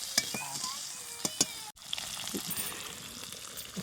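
Fish sizzling and frying in a pan for Odisha-style fish curry with cauliflower, a steady close hiss with a few sharp pops and stirring clatters, briefly cut off midway, no talk.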